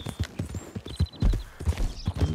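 A horse in Red Dead Online trots along, hooves clip-clopping in an uneven rhythm of close, thudding beats, with a faint whinny-like tone and light game sounds behind.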